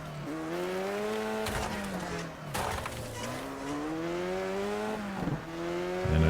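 A critically damaged race car's engine drones steadily in the demolition-derby racing game Wreckfest, its pitch rising and dipping with throttle changes, punctuated by a few brief knocks and scrapes.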